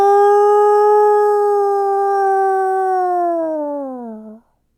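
A person imitates a wolf howl, one long sustained harmonic note held for about four seconds that slowly falls in pitch and fades at the end, loud and close with no other sounds.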